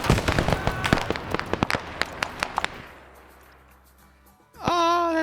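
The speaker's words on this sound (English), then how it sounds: "You guys should all be hearing this like massive amount of explosion." Massive explosions in a military video game convoy operation, a rapid burst of sharp blasts and cracks that fade into a rumbling tail, followed by a loud new droning tone near the end.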